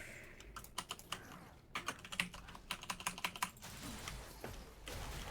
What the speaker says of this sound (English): there is some bonus to hearing your keyboard